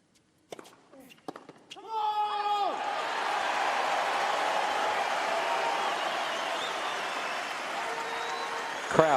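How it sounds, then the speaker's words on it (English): The Australian Open 2014 semifinal crowd bursts into loud, sustained applause and cheering after a long tennis rally, preceded by a few ball strikes and squeaking shoes on the court. "Crowd are so with Wawrinka."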